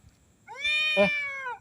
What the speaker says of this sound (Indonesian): ada kucing kasihan juga